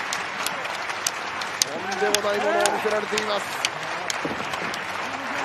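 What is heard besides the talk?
audience applause at a pro wrestling match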